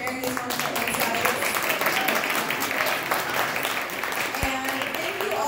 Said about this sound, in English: A big round of applause, and thank you so much to our panelists for sharing these wonderful insights.